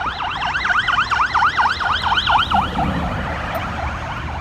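A fire truck's loud, wailing siren sweeps rapidly up and down, close by, then fades into traffic noise.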